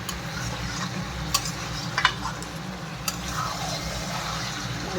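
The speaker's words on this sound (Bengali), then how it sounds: "ভালো করে কষে নিই আলু দিয়ে এখন" Chicken pieces and potatoes for a Bengali chicken curry fry in a pan with a constant close sizzle, a few sharp clinks and scrapes of stirring cutting through.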